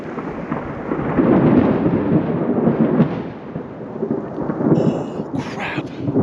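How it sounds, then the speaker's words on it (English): Thunder from a storm directly overhead while standing at a forest tree line on the John Muir Trail, a loud rolling rumble that swells and fades over several seconds with a faint hiss of rain. "Man, the storm's right above me."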